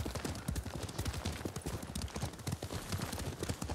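A horse gallops through grassland in Ghost of Tsushima, its hooves beating a fast, steady clip-clop rhythm, close and continuous throughout.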